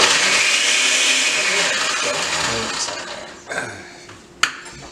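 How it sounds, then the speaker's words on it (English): A blender roars steadily at close range, grinding through frozen strawberries, then winds down near the end, with a couple of sharp clicks as it stops. "This blender's definitely better than mine."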